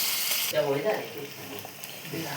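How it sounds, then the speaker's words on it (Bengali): Koi fish fry in hot oil in a home kitchen pan, giving a soft, steady sizzle with a brief bubbling burst, fairly quiet and continuous throughout. "আমি মাছটাকে এইভাবেই ভাজবো"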